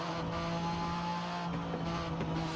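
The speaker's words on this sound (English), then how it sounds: "All these race cars especially sound so good in cockpits up." A steady, high-revving race car engine in Forza Horizon 5 drones continuously without letup, loud and close as if heard from inside the cockpit.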